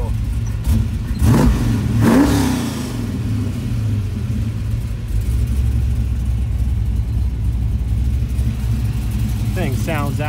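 A 1969 Chevrolet Chevelle Convertible V8 engine rumbles close by, surging in a couple of quick revs early on before settling into a steady throaty drone, with brief talking near the end.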